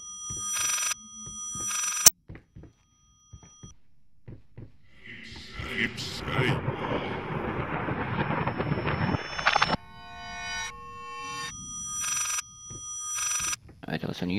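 In the horror game Layers of Fear, a telephone bell rings in short bursts near the start and again toward the end, with loud noisy game sounds in between.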